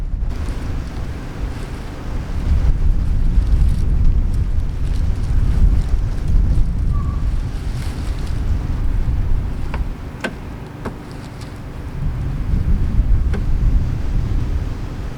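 Strong wind blowing outdoors, a loud, low, rumbling buffet against the microphone that swells and eases in gusts for the whole stretch, with a few faint ticks and no voices.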